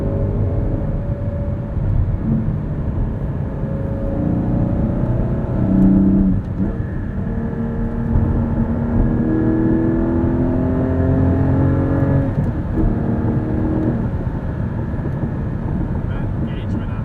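A 2020 Porsche 718 Cayman GT4 with a six-speed manual pulls steadily through the gears, its engine droning loud and continuous from inside the cabin.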